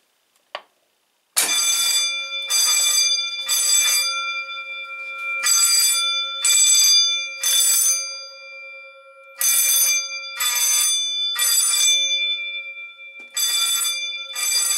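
A fire alarm bell rings in loud, repeated bursts with short gaps after a sharp click from a Faraday pull station being activated. It keeps ringing in an uneven on-off pattern throughout, with no talking.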